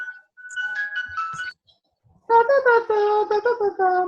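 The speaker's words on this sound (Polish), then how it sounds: "Jakiś telefon wchodzi nam na linię." A phone ringtone cutting into a Polish-language discussion: two short melodic electronic tone phrases separated by a pause, fairly loud and close, with no talk over them.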